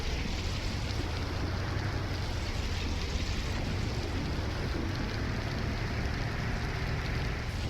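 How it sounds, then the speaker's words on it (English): Steady rain in Farming Simulator 19, a dense even hiss of falling water filling the whole stretch at moderate level, with no voices. "It's getting worse actually, this rain."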